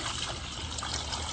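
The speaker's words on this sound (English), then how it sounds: "Pour some vinegar into a pitcher." Vinegar trickles as it is poured into a pitcher, a brief steady stream of liquid heard close.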